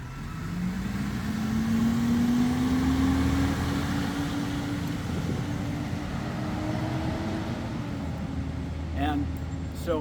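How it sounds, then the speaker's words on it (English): A truck drives past outdoors, its engine rumbling loud and steady with a slowly rising tone as it goes by. "We'll let the truck go by."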